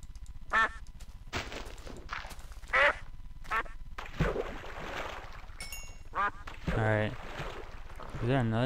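A duck in the Minecraft video game quacks in several short, bright bursts spread through the stretch, over game ambience with water and wind in the background.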